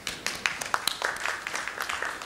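An audience at a legal counsel summit panel in a hotel gives light, scattered applause, with individual claps standing out sharply against a quiet room.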